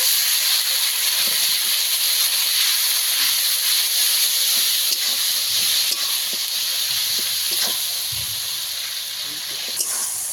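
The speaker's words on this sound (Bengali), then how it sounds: "মশলা ভালোভাবে কষিয়ে নিয়েছি মশলাটাকে তেল ছেড়ে দিতে শুরু করে দিয়েছি" Spice paste of tomato, turmeric and chili powder frying in oil for a fish curry, giving a steady close hiss and sizzle with occasional stirring clicks and no speech.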